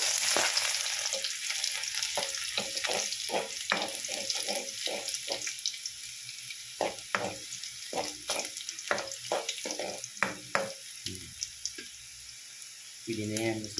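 Garlic frying in cooking oil for spicy chicken adobo, a hissing sizzle broken by a run of short rhythmic scrapes and clinks from stirring, moderately close, with a brief bit of talk near the end.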